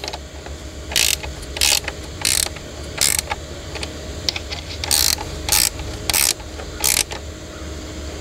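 A 7/16 inch wrench tightens a bolt while an Adirondack chair is assembled, giving eight short bursts of ratcheting clicks in an even rhythm, close up and moderately loud over a low background hum.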